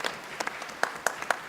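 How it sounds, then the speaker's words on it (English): Several light hand claps from a group, scattered and soft, landing as a few separate bursts with quiet gaps between them. "The next thing is just clap your hands a little bit like this."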